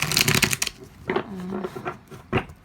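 Cards riffle and shuffle briefly with crisp papery flutters, followed by a few softer slides and taps, close and fairly quiet.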